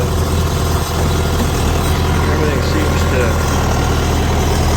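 A John Deere 6220 tractor engine runs steadily with a low, continuous diesel drone during a test drive after transmission repair, loud and close throughout with faint rattles over the top.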